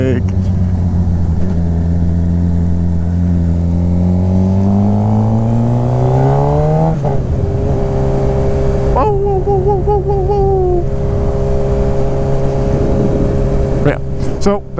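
A Suzuki GSX-R 750 motorcycle engine climbs in pitch as it accelerates, shifts gear and pulls again through further shifts, loud and close over steady wind rush.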